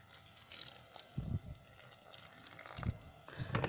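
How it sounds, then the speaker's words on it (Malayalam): Cow dung slurry poured into an azolla pond, faint splashing pours in a few short bursts over a quiet background. "ചാണകത്തിൻ്റെ തെളിനീരും കൂടെ നമുക്കിതിലേക്ക് ഒഴിച്ചു കൊടുക്കാം"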